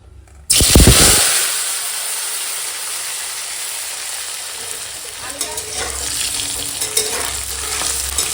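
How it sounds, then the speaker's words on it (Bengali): Potatoes fry in oil in a home kitchen. A sudden loud sizzle bursts up near the start, settles into a steady crackle, and stirring scrapes and clatters come toward the end. No one speaks. "তো দেখো এখন আলুটা ভাজা হয়ে গেছে"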